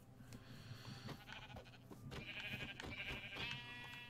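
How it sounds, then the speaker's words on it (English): A sheep in a survival-mode video game bleats in short, wavering calls over a busy, low in-game background, the cries growing clearer toward the end. "Yeah, I killed a sheep."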